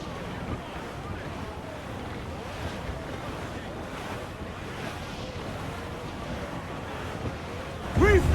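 Wind and ocean surf during a squall at sea in Assassin's Creed 4, a constant loud rushing wash with gusting noise throughout, ending in a brief burst of sharper sound.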